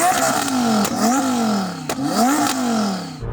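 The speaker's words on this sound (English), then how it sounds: "This is what a built GT-R sounds like." A built Nissan GT-R engine revs up and falls back repeatedly, three or four sweeping blips over a steady idle, loud and close amid a noisy drag-race setting.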